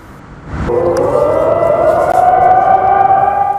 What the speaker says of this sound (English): Air raid sirens can still be heard daily